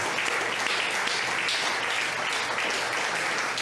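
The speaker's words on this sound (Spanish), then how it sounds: "Dele un aplauso fuerte al Señor." A church congregation breaks into loud, sustained applause praising the Lord during a sermon, a dense wash of clapping that fills the space close at hand without pause.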